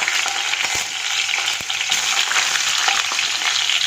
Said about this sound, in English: In the same oil, I'm going to just fry up the capsicum